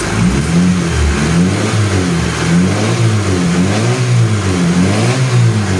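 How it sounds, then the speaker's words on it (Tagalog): A truck engine that needs a tune-up runs steadily with a rhythmic, pulsing throb as its rocker arm clatters. The sound is loud and close, with no talking. "mayroon pang kalansing ang kanyang rocker arm"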